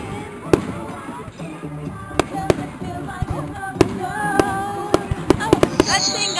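Fireworks explode at night at a summer 2009 gathering, with sharp cracks and booms at irregular intervals and a quick cluster of bangs near the end, under the murmur of nearby voices.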